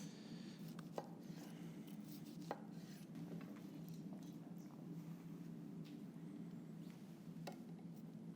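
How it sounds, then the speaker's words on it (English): A knife slices through smoked, cinnamon-spiced pineapple on a board in an outdoor kitchen, quiet cuts and several sharp taps against the board spaced irregularly over a low steady background hum. "Just take out the centre, and then we're just going to slice it"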